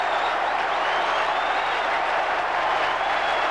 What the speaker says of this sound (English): And the crowd go mad.